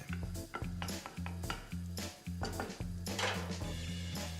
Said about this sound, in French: on va le râper directement dans la casserole au-dessus de l'huile pour bien la parfumer